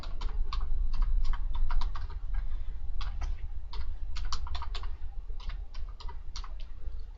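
Fingers type a name and an email address on a computer keyboard in quick bursts of clicking keystrokes, pausing briefly between words, close and clear over a low background hum with no talking.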